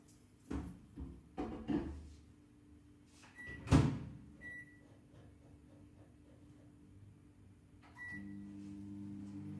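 A microwave oven set for twenty minutes at 900 watts, cooking risotto in a Tupperware dish: several door and handling knocks and a few beeps, then a steady low hum once it starts running.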